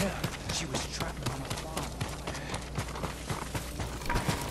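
Horse hooves clip-clop steadily in the video game Ghost of Tsushima, a fast, even rhythm of light thuds under dense game ambience and background sound, continuing throughout.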